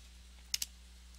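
Two quick, crisp keystrokes tap close by on a computer keyboard as a value is entered into CAD software, set against a low, quiet background hum.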